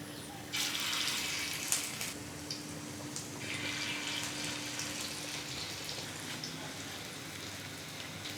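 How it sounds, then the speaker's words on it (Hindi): Kebabs frying in hot oil over a medium flame for Mumbai-style kabab pav, a steady hissing sizzle with brighter surges as they are turned, fairly faint and without talk. "हम अलट पलट करते हुए इस तरह से इन्हें फ्राई करेंगे।"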